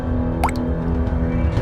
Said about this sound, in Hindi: ऊपर छत से खून की बूंदें टपकने लगी